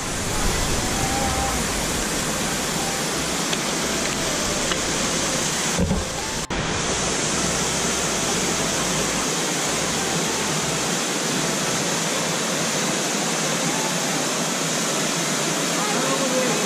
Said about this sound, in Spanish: llegamos a la cascada